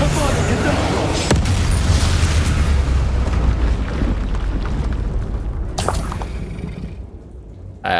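A Confringo fire spell from the Hogwarts Legacy video game lands with a booming explosion, followed by a long, dense roar of crackle and rumble. A second sharp burst comes near the end, loud and close.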